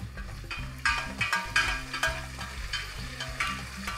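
Cashews sauté in ghee in a pan with a soft sizzle and scraping stirs, while a low, steady hum runs underneath.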